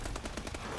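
Rapid automatic gunfire from a deployed turret in the video game eXo-Zombies, a quick rhythmic burst of shots lasting under a second, loud and dense with no talking.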